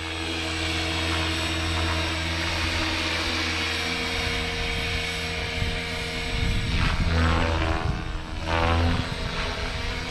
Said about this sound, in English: As controllable a helicopter as I've ever flown.